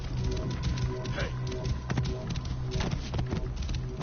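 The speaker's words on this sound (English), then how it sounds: "This must be Mered's horse." Horse hooves clip-clopping in Assassin's Creed Origins, a steady patter of steps under game ambience and muffled voices.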